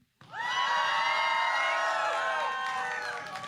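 A large crowd bursts into a drawn-out, rising and falling collective "wow" on cue, loud and sustained for about three seconds before tapering off.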